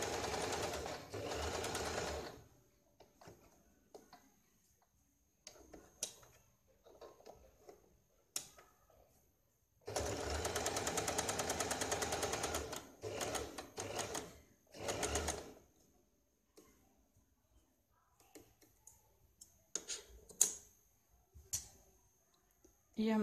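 A sewing machine runs in several separate bursts, the longest a steady whir of about five seconds, stitching diagonal tucks on a blouse lining, with quiet gaps and a speaking voice between runs.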